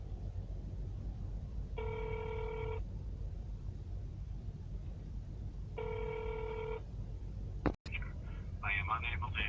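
Outgoing call ringback tone heard through a phone line to a county administration office, two evenly spaced rings against a low background hum, followed by a click and the start of faint talk.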